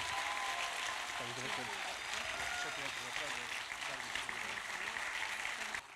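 Dense applause from a concert audience at a Ukraine benefit concert in Marki, steady throughout with a voice speaking over it, dropping off at the very end.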